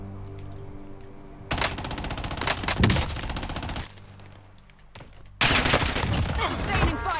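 Loud automatic gunfire bursts in the video game Warzone, sustained rapid fire in two long stretches separated by a quieter gap, with voices talking over the action.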